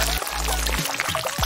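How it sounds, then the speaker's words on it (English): Egg yolks pour out of a kitchen yolk separator in a few short slippery glugs, close and fairly loud, with brief wet spurts spaced roughly half a second apart. "Pour out those yolks. We're making meringues."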